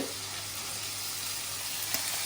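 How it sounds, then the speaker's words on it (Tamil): Onion and curry leaves sautéing in a pan for semiya kichadi, a soft, even sizzle running steadily with a faint low hum beneath and one small clink near the end. "வெங்காயம் கருவேப்பிலை ஒன்றா போட்டு வதக்கணும்"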